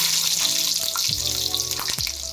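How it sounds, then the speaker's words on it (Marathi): Shahjira (caraway) seeds and chili hit hot ghee with a loud, close, continuous sizzling hiss, broken by a few brief clunks and rattles. No voices are heard. "आता आपलं तूप गरम झालेलं आहे आता आपण टाकूया त्यात शहाजिरी"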